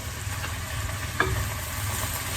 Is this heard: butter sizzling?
yes